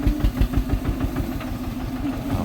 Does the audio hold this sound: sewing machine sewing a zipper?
no